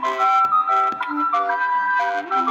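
A ferry boat's melodic jingle plays loudly and steadily, its tonal notes stepping through a short tune with no voices over it.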